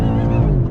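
A 2020 BMW M8 convertible engine pulls hard under throttle, a loud, close, steady low growl with layered harmonics that holds for under a second without talk.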